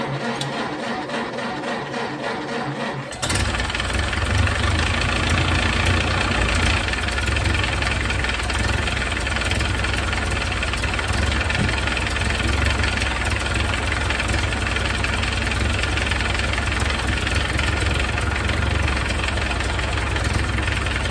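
A 1931 Ford Model A engine with an exhaust leak runs loud and close, a dense, continuous rough idle with constant puffing and knocking that starts abruptly after a few seconds of quieter background noise.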